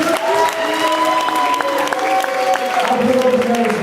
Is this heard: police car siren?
no